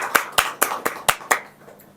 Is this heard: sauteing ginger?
no